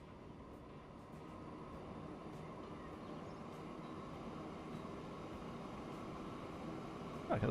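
A full-length train runs in the video game Transport Fever 2, a steady, faint rolling rumble that builds slightly over several seconds, with no voices.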